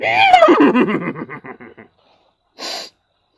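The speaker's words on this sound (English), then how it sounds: "he saw a black horse hoisting up on his back legs and go" Black horse rearing onto its hind legs, giving a loud close whinny that descends through a series of fluttering pulses and fades out, followed after a brief pause by a short breathy snort.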